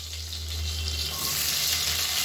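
Onions fry in a pan with cumin and curry leaves while a Tamil home cook makes lunch. The sizzle is a continuous, dense hiss that stays close and loud throughout.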